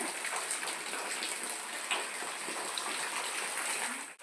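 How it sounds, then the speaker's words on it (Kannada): Heavy rain pours steadily outside, making a dense, even hiss and patter that stays constant throughout, moderately distant, with no one talking. "ಸಖತ್ತಾಗಿ ಮಳೆ ಬರ್ತಿದೆ ನೋಡಿ"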